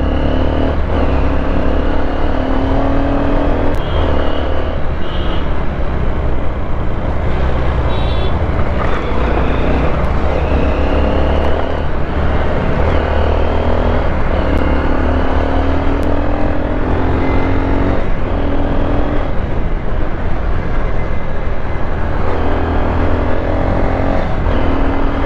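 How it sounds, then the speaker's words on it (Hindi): Busy road traffic at night in Guwahati, heard from a moving vehicle: a continuous loud rumble of engines and passing cars and motorbikes, with wind buffeting throughout and no talk. "रात के 11 बजे भी गाड़ियाँ कम नहीं है रास्ते पे, इतना गाड़ियाँ है"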